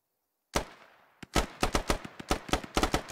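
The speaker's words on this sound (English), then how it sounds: "And they're shooting." Gunfire in the tactical shooter Squad: after silence, one sharp shot, then a rapid string of about a dozen loud, close cracks in quick uneven bursts, each decaying briefly.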